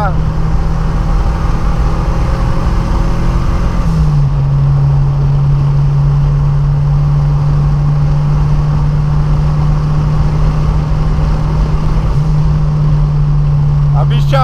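Volkswagen Santana Quantum with a turbo and 2E carburetor pulling hard down a long straight, a loud steady engine drone that holds its pitch, sits close in the cabin and runs continuously with no talk.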